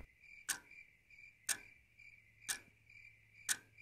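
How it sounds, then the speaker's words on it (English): A clock ticks once per second in a quiet room, sharp regular clicks over a faint, continuous cricket chirp. "set to the sounds of crickets and a clock ticking"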